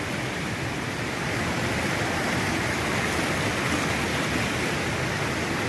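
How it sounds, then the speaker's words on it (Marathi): Water overflowing at Bhivapur lake near Amravati: a constant, dense roar of rushing water, steady and loud throughout, like a spillway or small waterfall. "बघा पाणी किती ओव्हरफ्लो होऊन राहिला आहे ह्या साईडने जास्त ओव्हरफ्लो होऊन राहिला"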